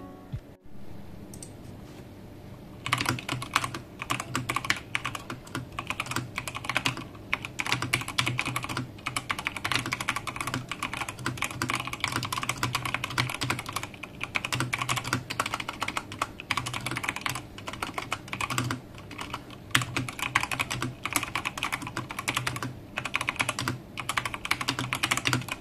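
Someone types steadily on a Machenike K600 Lite keyboard, dense close clicking keystrokes running continuously for over twenty seconds after a brief quiet start, with no talking.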